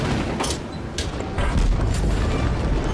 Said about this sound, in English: the battleship's secondary guns are starting to come into play